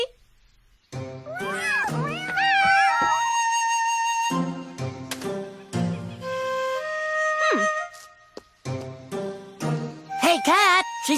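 Cartoon cats from the animated series Sagwa meow in a string of high, wavering, musical cries alongside jingly music, with short gaps between bursts.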